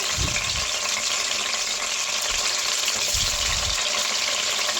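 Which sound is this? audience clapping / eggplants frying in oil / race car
eggplants frying in oil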